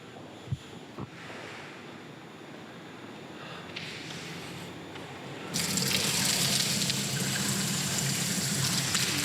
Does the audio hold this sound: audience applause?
no